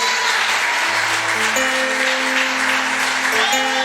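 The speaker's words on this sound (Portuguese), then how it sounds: "Aplauda o Cordeiro de Deus." A church congregation applauds steadily through a worship service, with dense clapping held up over sustained keyboard chords that shift pitch a few times.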